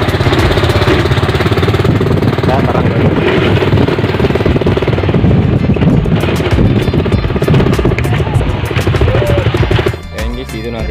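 A motorbike engine rattles loudly and continuously up close on the way to Patunungan Island in the Philippines, then drops off near the end.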